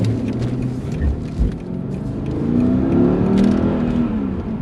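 Mercedes W210 E55 AMG accelerates hard, its engine note droning deep and loud from inside the cabin, climbing steadily in pitch with a brief thump partway through.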